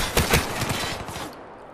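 Rapid bursts of SMG fire and single rifle shots in a Black Ops 3 multiplayer match, loud and close, several sharp cracks early then a trailing rattle that fades out.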